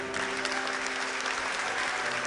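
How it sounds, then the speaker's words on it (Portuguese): A church congregation claps during a Sunday service, a steady, dense wash of applause that stays even and fairly loud from start to end. "Pode aplaudir mais forte,"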